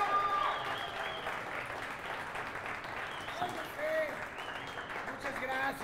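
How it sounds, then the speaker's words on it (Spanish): A studio audience applauds and cheers to welcome a guest on a comedy talk show in a park venue, a sustained crowd roar with voices shouting over it throughout. "demos un fuerte aplauso desde La Vicenta, Parque Tezontle, para recibir a nada más y nada menos que el Jota"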